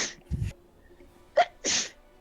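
Two close, sharp human sneezes, each with a short breathy intake before the burst, spaced about a second apart in a quiet room.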